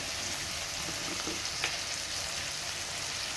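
Vegetables for sambar cook in hot oil in a pan, giving a steady, close sizzle with a faint crackle or two and no speech.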